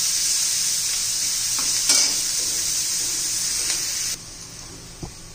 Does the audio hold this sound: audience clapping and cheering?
no